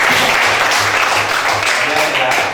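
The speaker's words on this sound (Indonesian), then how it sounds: "Beri tepuk tangan yang meriah untuk" Brief, loud burst of applause from students in a classroom, dense clapping that runs throughout and fades slightly at the end.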